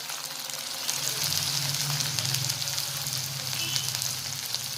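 Vegetables sizzle and fry in a pan with cumin seeds, mustard seeds, onion and capsicum, a steady close crackling hiss with some stirring over about five seconds.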